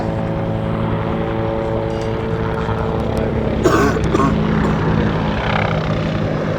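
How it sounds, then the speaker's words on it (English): Bell UH-1 Huey helicopter in Vietnam-era Southeast Asia colours flying a display at the Duxford American Air Show, its steady rotor and engine drone holding throughout and swelling briefly midway, with faint crowd sound around it. "We see here a little maneuverability of the Huey's RH6 design."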